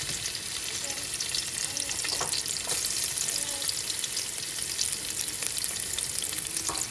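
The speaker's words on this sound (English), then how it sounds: "so now I'm going with my garlic. Onions, I want this to fry up." Garlic and onions fry in hot oil with a dense, loud crackling sizzle throughout, punctuated by occasional stirring scrapes, heard up close with no one talking.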